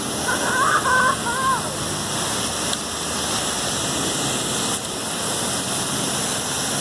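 A town square fountain splashes continuously in a steady, moderately loud wash of falling water, with a brief birdlike chirp early on and some faint talk nearby.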